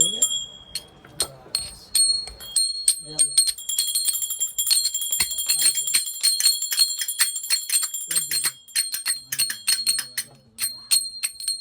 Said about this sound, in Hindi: घंटी कहाँ है? ठीक है। बजा दो।